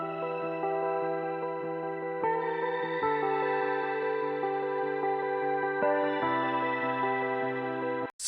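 A blur effect of reverb, an octave pitch shifter and a 350 ms delay smears sustained tones into a gliding, shimmering wash that shifts pitch a few times before cutting off abruptly.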